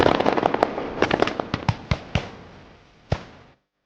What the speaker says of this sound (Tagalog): muling makarinig ng magkakasunod na putok ng baril